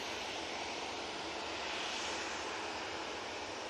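A Jet2 jet airliner at Manchester Airport produces a steady, broad roar of engine noise throughout, heard from some distance.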